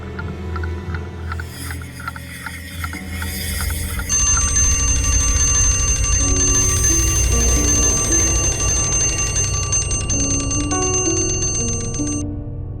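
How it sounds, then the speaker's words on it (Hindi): An alarm clock rings loudly at night in a TV crime drama, a rapid metallic bell clatter that grows fuller and continues for several seconds before fading slightly near the end, with no talk. "मैंने तो अलार्म लगाया ही नहीं था, फिर ये घड़ी कैसे बजी?"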